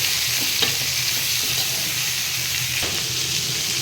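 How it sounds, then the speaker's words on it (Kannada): Masala with tomatoes fries in a pan with a steady, fairly soft sizzle, and a few faint stirring scrapes stand out near the start and again toward the end. "ಇದನ್ನ ಚೆನ್ನಾಗಿ ಫ್ರೈ ಮಾಡ್ಕೊತೀನಿ"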